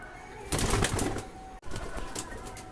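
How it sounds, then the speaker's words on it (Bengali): Pigeons in a backyard loft give low coos with a brief burst of wing flapping, a short gap, then more soft cooing close by. "অনেক সুন্দর একটি কবুতর এবার আমরা এর জোড়াটাকে দেখবো"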